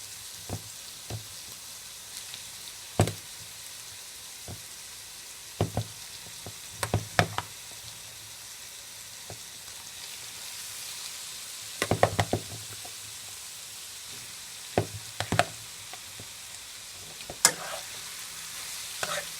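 Pumpkin frying in a pan, Guyanese style, with a steady sizzle under repeated knocks and scrapes of a spoon stirring and tapping the pan, fairly close and continuous.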